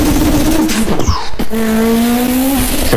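A loud car engine revs and shifts gears, with tires squealing briefly as it races close by.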